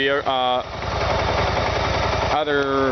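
Engine of a 2013 BMW 650 GT motorcycle running at a steady idle, a continuous near, loud mechanical drone with a rapid pulsing beat, with a voice briefly speaking at the start and end.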